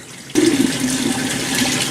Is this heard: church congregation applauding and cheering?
no